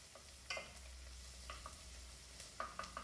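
Garlic and onions frying in a pan while being cooked for a loaded mince dish, a quiet steady sizzle broken by a few stirring scrapes, close and without talk.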